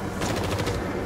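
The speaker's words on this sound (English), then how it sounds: "Oh my God, somebody's shooting at us." A quick burst of machine-gun-like gunfire in the video game Blair Witch, a loud, dense rattle of rapid shots filling the whole moment.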